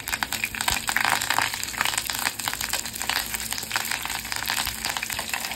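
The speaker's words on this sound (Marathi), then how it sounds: "त्यामध्ये लसणीच्या पाकळ्या टाकते, त्या ठेचून टाकल्यात, त्यानंतर कढीपत्त्याची पानं" Crushed garlic cloves and curry leaves fry in hot oil in a pot for a crab masala, giving a steady, close crackling sizzle with bursts of spattering and no talk.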